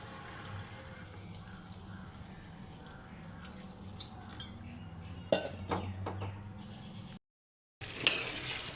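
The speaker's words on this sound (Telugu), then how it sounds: "కూరకు సరిపడా నీళ్ళు వేస్తున్నాను" Water poured into a pan of brinjal curry gives a soft, steady wash, then a few louder splashes and drips near the end. The sound is close but fairly quiet.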